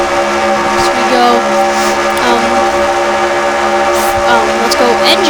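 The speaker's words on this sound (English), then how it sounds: "let's listen to these engines go for the next lap or so." IndyCar engines scream around Daytona in a racing video game, a loud continuous high-pitched drone with shifting, overlapping engine tones as cars pass, steady throughout.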